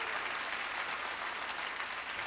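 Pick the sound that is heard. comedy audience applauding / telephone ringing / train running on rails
comedy audience applauding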